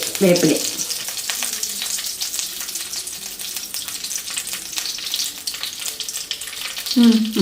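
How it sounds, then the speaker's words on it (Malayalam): Shallots and onions frying on full flame in hot coconut oil, a loud, dense, continuous crackling sizzle up close, with brief bursts of other sound at the start and the end. "നമുക്ക് വെളിച്ചെണ്ണ മൂത്ത് കഴിഞ്ഞാൽ ഇതിലേക്ക് ഉള്ളികളിടാം."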